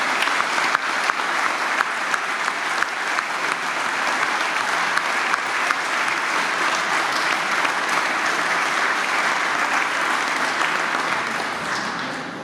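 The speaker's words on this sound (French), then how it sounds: "les applaudissements leur parviennent." Sustained audience applause at an outdoor civic address in Dijon on 13 July, a dense, steady wash of clapping from many hands that holds throughout and fades slightly at the end.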